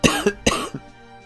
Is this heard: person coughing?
yes